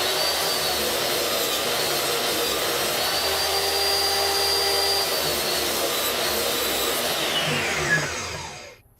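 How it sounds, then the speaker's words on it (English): A power saw cuts wood pieces for a stovetop noodle board, a steady loud whining drone held for several seconds before it spins down and fades at the end. "the next piece we want to cut is going to be the two pieces that go on the side of the board"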